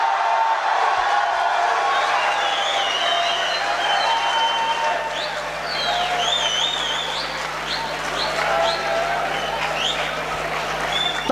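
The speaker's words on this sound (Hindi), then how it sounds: "तालियों का सिलसिला रुकना नहीं चाहिए।" Steady, dense applause from a large audience fills a poetry mushaira hall, sustained at an even level throughout, with a few scattered cheers and a presenter's voice faintly beneath it.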